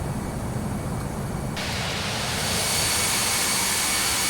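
Exterior engine roar of an Airbus A319 in the FSX flight simulator game, a loud steady broadband jet rush that swells brighter about a third of the way through, with no talk.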